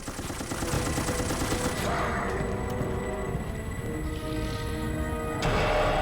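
Rapid gunfire rattles through a burst of combat in Resident Evil: Operation Raccoon City, loud bursts over game music and effects.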